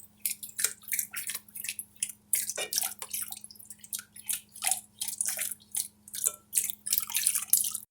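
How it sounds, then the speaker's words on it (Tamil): A cornflour mixture being poured slowly into a pan while cooking Bombay Karachi halwa, giving irregular close wet drips and squelches over a low steady hum. "இந்த கார்ன்ஃப்ளவரை கொஞ்சம் கொஞ்சமாக ஊற்றி மிக்ஸ் பண்ணுங்கள்"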